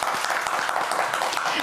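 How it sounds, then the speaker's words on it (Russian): A short burst of steady applause at a televised public event in Gomel, Belarus: many hands clapping densely and fairly loudly, with a voice faintly present underneath. "Ваши аплодисменты."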